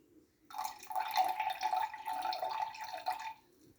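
Ash-mixed water is poured into a glass of indicator in a steady, quiet trickle lasting about three seconds, close and with no talk.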